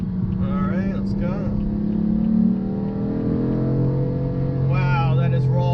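A BMW M3 engine accelerates onto a highway, a steady loud drone with rising harmonic sweeps as it revs through the gears, heard close from inside the cabin.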